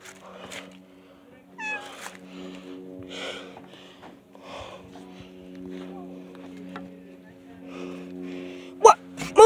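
A house cat lets out several short, scattered meows and squeaky calls close by over a low steady indoor hum, with a sharp louder burst near the end.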